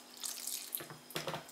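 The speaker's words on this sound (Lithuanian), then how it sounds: "tai dar dapilam pieno" Milk pours into a curd batter for a plum and apricot curd bake, a soft liquid splashing stream with two louder gushes near the end, quiet and close.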